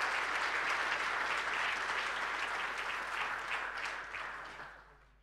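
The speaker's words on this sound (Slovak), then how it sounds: "Veľký potlesk a ďakujeme." Crowd applause at the Košice International Peace Marathon event, a dense burst of many hands clapping loudly that holds steady and then fades out near the end.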